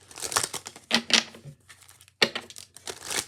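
Tarot cards shuffled by hand, a few quick riffling bursts of papery flutter and taps separated by short pauses, close with no voice.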